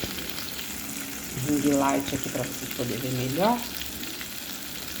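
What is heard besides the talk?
tilapia fillet frying in a pan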